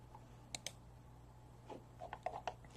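Soft, sparse keystrokes on a computer keyboard, a couple of quick clicks early then a short burst of light taps near the end, faint over a steady low hum.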